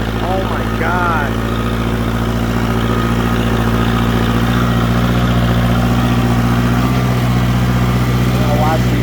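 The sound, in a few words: tractor engine running under load after stall fix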